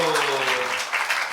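Short burst of clapping from a church congregation at an Easter confession-recitation contest, brisk and dense, with a voice heard over it.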